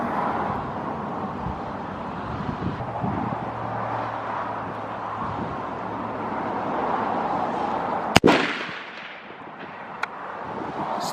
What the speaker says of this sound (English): Take another shot, see if I'm even hitting anywhere near that damn thing.